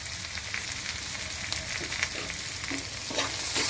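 Spices with salt, chilli, turmeric and garam masala fry in a pan for an okra curry, a steady close sizzle with a few stirring scrapes and no talk.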